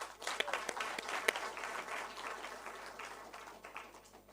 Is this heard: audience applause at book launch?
yes